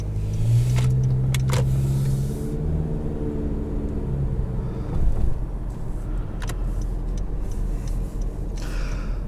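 Interior drive of a 2017 Honda HR-V EX AWD coasting on the road, with a steady low rumble of engine and tyre noise that holds throughout and a brief rise in tone early on.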